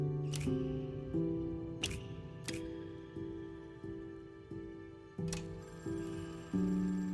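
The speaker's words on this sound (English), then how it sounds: "Phone ring." A telephone bell rings in short repeated bursts, each strike decaying with a bright metallic shimmer, loud and close with no voices over it.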